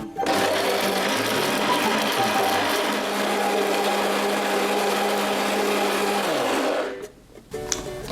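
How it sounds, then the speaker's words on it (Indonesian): A blender grinds a spice paste of aromatics and water for soy-sauce grilled chicken, a loud steady whirring motor roar running for about seven seconds before it winds down and stops. "Bumbu-bumbu ungkepan selain daun-daunan akan kita haluskan dengan blender."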